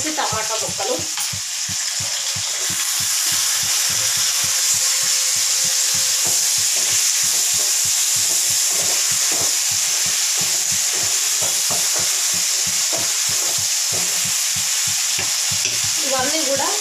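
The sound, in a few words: bottle gourd pieces with tomato and spices cooking in pan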